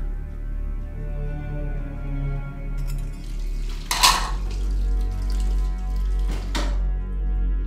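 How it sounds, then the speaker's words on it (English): Dishes being washed at a sink, a low steady hum underneath with a sudden loud clatter of crockery and a second sharper clink a few seconds later. "I am still washing the dishes."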